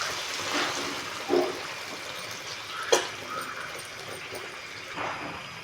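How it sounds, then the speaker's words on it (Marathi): Coconut milk pours into a simmering chicken Thai curry with fish sauce and vegetables, a soft continuous liquid trickle and gurgle close by with a few gentle splashes. "आता मी ॲड करत आहे कोकोनट मिल्क"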